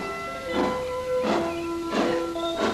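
A steam train pulls away in bursts of rhythmic chuffing, four hissing puffs about two-thirds of a second apart over a sustained whistle-like tone, with no voices.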